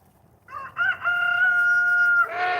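A rooster crows once, near and loud, in a sustained ringing call with no voices over it, in a backyard among chickens kept with a pet goose.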